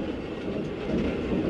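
Tram rolling over a railway siding crossing in the OMSI 2 Brno tram simulation, a steady rumbling rail noise with faint clattering wheels, continuous and fairly loud with no speech.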